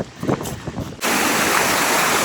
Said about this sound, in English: now we're going to go underneath this waterfall